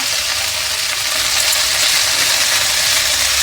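Mint leaves frying in a little hot oil for chutney, a steady close bright sizzle with light crackling, continuous and without talk.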